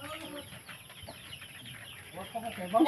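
Chickens cluck softly in the background among low voices, with a louder cluck or two near the end.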